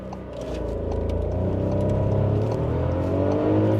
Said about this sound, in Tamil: So ரிவிங் the motor.